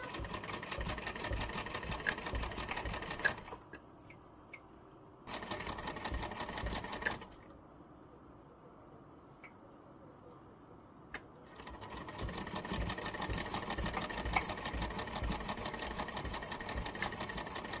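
A household sewing machine stitching clothes runs in a fast, steady whirring rattle, stops for a long quiet gap with a short burst in between, then resumes stitching continuously, close and clear without talk.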